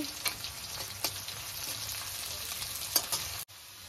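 Chopped onion and garlic fry with a steady broadband sizzle in a pan of oil for khichdi, broken by a few sharp spatula scrapes and stirs, then cut off abruptly near the end.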